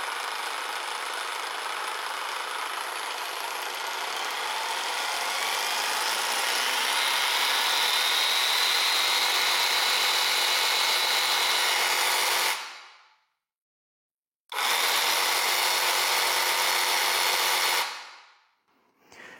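A Parkside Performance PPSTKA 12 A1 12V brushless cordless jigsaw runs with no load in a workshop, giving a steady, loud, close whine for about twelve seconds. It then stops abruptly, restarts briefly and winds down, with no talking.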